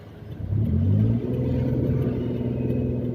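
A car engine accelerating on half clutch uphill, climbing to a loud steady rumbling drone that holds mid-revs, close and continuous with no talk.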